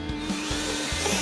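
Power drill boring a bolt hole through a Camaro aero part with a continuous, close, high-pitched whine and a slight rhythmic grinding, loud and steady throughout.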